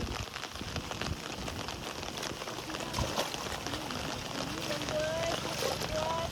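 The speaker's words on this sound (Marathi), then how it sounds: "वारा पाऊस पाऊस जरा थांबत नाही" Steady rain hisses and patters under gusting wind on a farm, while people talk faintly in the background.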